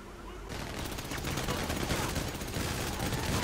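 Gunfire in GTA comes as a dense, loud, continuous burst of rapid shots that fills the whole stretch, with a voice faintly present under the barrage.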